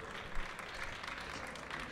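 Steady applause from a crowd, a dense wash of clapping that holds at an even level throughout.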